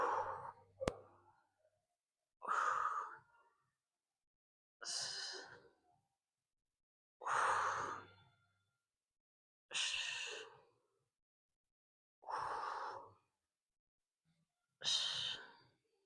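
Heavy breaths during a full body dumbbell workout, seven evenly spaced, close and distinct exhales with silence between, no talking over them.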